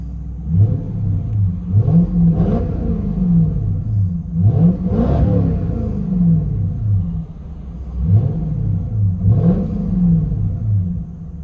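A Lexus SC400 V8 engine revs repeatedly from inside the cabin, deep rumbling rises and falls in several throttle blips, loud and close.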